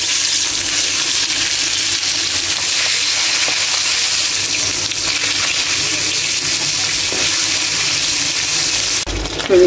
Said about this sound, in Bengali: এখানে তেল গরম করতে দিয়েছিলাম, তেলও গরম হয়ে গেছে, এখন আমি এটাকে ছেড়ে দেব